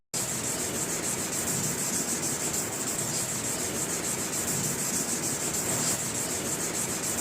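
Sandpaper is rubbed briskly across a hazy car headlight lens, making a continuous, close, gritty scraping with a steady back-and-forth texture and no voices.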